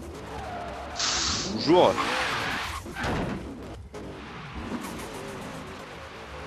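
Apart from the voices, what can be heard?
Mazda RX-7 car driving and skidding in video game Forza Horizon 3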